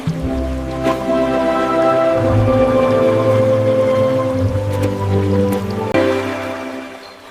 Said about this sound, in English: That is a small stream.